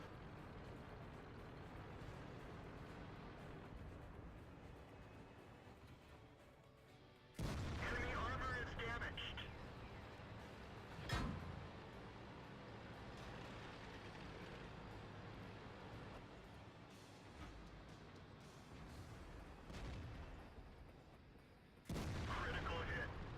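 Tank cannon shots in World of Tanks played with an IS-6 heavy tank: a few heavy booms break through a constant engine rumble, with a voice talking over much of it.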